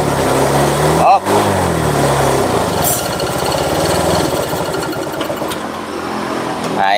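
A Honda Vario scooter engine runs close by while connected to a diagnostic scanner, with a fault where it does not rise properly when throttled; the engine revs in a steady, buzzing drone with brief throttle changes and muffled voices.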